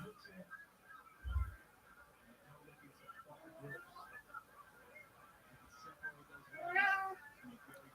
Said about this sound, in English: Cat's got a fucking mouse.